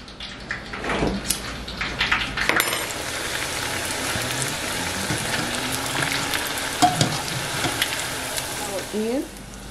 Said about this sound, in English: now we're gonna go over to the stove and get this fried up